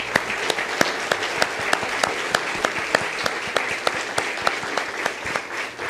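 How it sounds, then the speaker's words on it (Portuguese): Rhythmic clapping from a church congregation, many hands striking together in a steady, even beat, with a soft crowd murmur beneath. "Vamos dar uma salva de palmas para o Senhor?"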